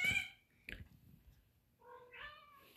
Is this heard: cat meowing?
yes